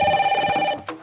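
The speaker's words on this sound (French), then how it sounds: "merci de passer le téléphone à Arthur." A telephone rings in a steady electronic tone that is fairly loud and close, then cuts off sharply into a short noise.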